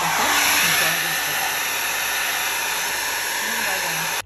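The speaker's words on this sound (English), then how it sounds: "I'm going to let this dry with a hairdryer." A hair dryer blows steadily at close range, a loud continuous airy whoosh that cuts off abruptly at the end.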